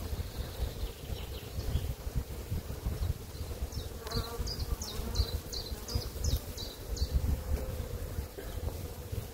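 Honeybees buzz steadily and up close around a hive during a spring honey harvest, a continuous dense hum with occasional higher insect whines passing near.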